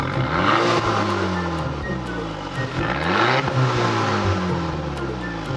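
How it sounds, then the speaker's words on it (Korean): Audi A5 2.0 TFSI Quattro engine revving as the accelerator is pressed after twenty minutes of idling, with two rising-and-falling rev sweeps over a steady loud drone, close and with no talking. "한 20분 시동 걸어놨고 악셀 한번 밟아볼게요."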